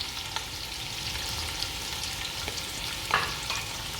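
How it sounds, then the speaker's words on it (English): Onions, ginger and garlic fry in hot rendered pork fat for an Indonesian stew, giving a close, steady sizzle with a brief louder burst of crackling and spatter near the end, no talking. "once we've got our fat from the pork up to temperature, we're going to chuck in onions"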